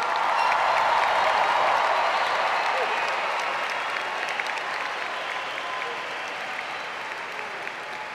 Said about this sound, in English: How about one more big round of applause for the class of 2023?